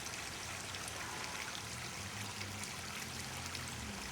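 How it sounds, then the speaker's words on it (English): A small waterfall spills into a permaculture grow-out pond, a soft continuous trickle and splash with a faint, even patter and no talk over it. "Little waterfall spilling down into the grow out pond."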